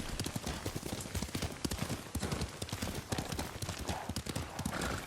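Rapid, dense clip-clop of galloping horse hooves in the video game Ghost of Tsushima, continuous and loud, with a rough rushing background and no pauses.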